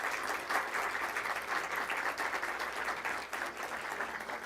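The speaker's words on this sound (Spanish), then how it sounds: "Un aplauso, por favor" Sustained applause from an audience at a Giordano Bruno anniversary ceremony, steady and dense for the whole stretch without a break.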